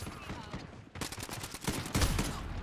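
Rapid bursts of automatic gunfire from Modern Warfare on the small Shipment map, dense and loud, building in intensity over about three seconds with overlapping shots and no clear speech.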